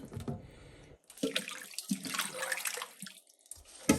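Limes rinsed under a running kitchen tap, water splashing in uneven bursts against the fruit and sink, close and fairly loud, with brief pauses where the flow is interrupted.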